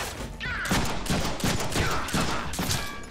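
Rapid gunfire in the Deadpool game: a dense, loud barrage of shots in pulsing bursts with a ringing metallic edge, continuous across the stretch with no talk.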